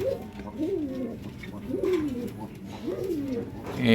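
Pigeons coo inside a pigeon house, repeated rolling calls rising and falling in three clear phrases over a low steady room hum, fairly close and moderately loud.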